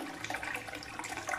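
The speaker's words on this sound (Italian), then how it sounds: "Abbiamo anche sentito che la campana è andata giù" Water rushes steadily in a Grohe WC cistern being flushed after a repair, a close, continuous splashing wash with no talk.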